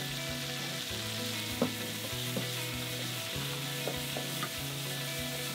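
Shrimp searing undisturbed in a frying pan, a faint, even sizzle with a few soft ticks and a low background hum, no talking.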